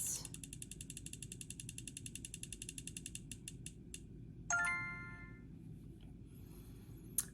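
A prize wheel spins with rapid, steady clicking that slows and spaces out before stopping, followed by a few faint knocks and a brief chime-like tone, all quiet and close.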